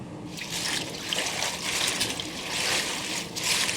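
Collard and mustard greens are agitated by hand in a container of water, giving a soft, continuous sloshing and trickling with a few stronger swirls, close and fairly quiet.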